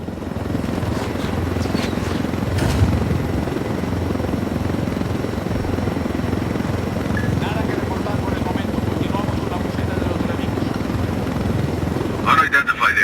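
A helicopter in flight in the video game Ghost Recon: Wildlands: a loud, steady rotor thrum and engine drone filling the whole stretch, close and continuous, with voices talking over it at times.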